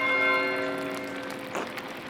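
Monastery bell in the game Pentiment rings out with resonant, sustained clangs that slowly fade, followed by faint softer knocks near the end.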